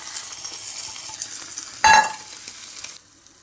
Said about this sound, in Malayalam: നന്നായിട്ടൊന്ന് മിക്സ് ചെയ്താൽ